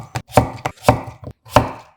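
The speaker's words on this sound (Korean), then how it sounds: "1cm 두께로 도톰머슷하게 썰어주세요." A knife slices a halved cucumber into thick 1 cm pieces on a cutting board, producing five or six crisp, close chopping knocks in an uneven rhythm, with no talking.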